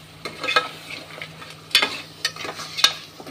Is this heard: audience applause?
no